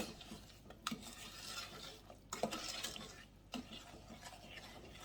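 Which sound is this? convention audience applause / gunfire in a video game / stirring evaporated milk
stirring evaporated milk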